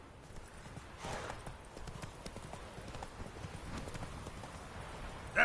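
Roach the horse clip-clops along at a steady trot in a video game, the hoofbeats fairly quiet and continuous against a soft ambient background.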